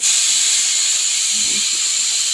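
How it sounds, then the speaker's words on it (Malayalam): A loud, steady hiss of steam rises continuously from boiling black tea being poured, with a faint low clink partway through. "നമ്മുടെ കട്ടൻ ചായയൊക്കെ തിളച്ച് ഇനി അത് ഒഴിക്കുകയാണ്"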